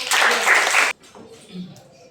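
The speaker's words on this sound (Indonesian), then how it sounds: "tepuk tangan untuk" Classroom applause from students, a short burst of clapping lasting under a second that cuts off abruptly, after which a teacher's voice is heard faintly.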